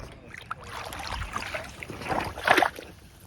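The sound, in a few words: canoe paddling setting off on Kiosk Lake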